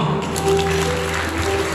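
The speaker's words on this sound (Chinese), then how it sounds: "各位，献上你们的掌声好吗？" Guests at a luxurious wedding dinner applaud the couple's entrance, with steady clapping under sustained background music.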